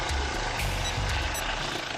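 A helicopter drones steadily nearby, its dense rotor and engine noise filling the short moment without any talking.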